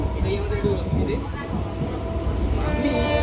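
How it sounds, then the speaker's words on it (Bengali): A train pulls into a dusty station platform with a low rumbling roar beneath constant crowd noise and nearby talking. "আমাদের ট্রেন চলে আসছে ফাইনালি।"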